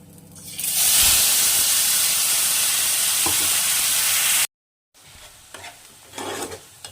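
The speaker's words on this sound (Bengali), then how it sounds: "যে মশলাটা আমরা বানিয়ে রেখেছি সেই মশলাটাকে দিয়ে দেব" Spice paste hits hot oil with whole garam masala in a pan for a Bengali katla fish curry, a loud sustained sizzle and hiss with stirring scrapes, followed by a brief cut and quieter intermittent frying.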